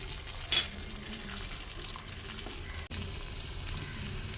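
Raisins fry in a pan for payasam, a soft steady sizzle with a brief clink near the start, no talking.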